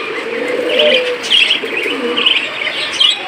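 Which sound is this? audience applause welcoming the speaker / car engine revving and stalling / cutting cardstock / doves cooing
doves cooing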